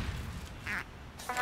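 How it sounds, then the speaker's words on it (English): Cartoonish duck quack from a dead player's character in Team Fortress 2, two short bright honks in quick succession over a steady wash of game noise, no talking. "Why can you quack while dead?"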